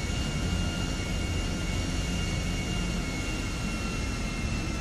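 Aircraft engine noise from a plane in GTA 5, a dense steady jet-like roar at moderate level that neither rises nor falls, with no voices over it.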